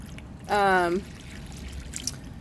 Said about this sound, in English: stuck it through, poured water. It looks like it's draining